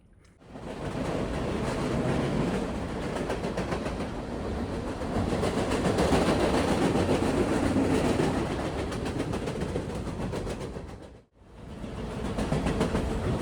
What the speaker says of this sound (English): There's a train passing over